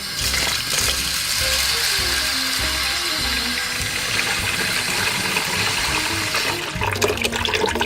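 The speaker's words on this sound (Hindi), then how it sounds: "इतना सा पानी डाल देना है ताकि ये अच्छी तरह इसके अंदर भीग जाए।" Water pours into masoor lentils for several seconds, a continuous gushing stream with faint background music underneath.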